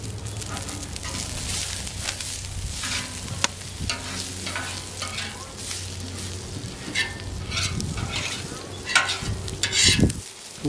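Curry leaves, garlic and ginger fry in a pan with a crackling sizzle, broken by repeated spatula scrapes and clanks against the metal, fairly close and steady throughout.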